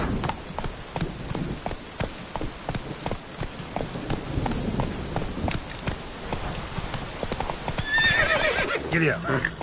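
A horse in The Witcher 3 video game clip-clops along at a steady, rapid gait, with sharp repeated hoof strikes and a whinny near the end, while a voice talks over it.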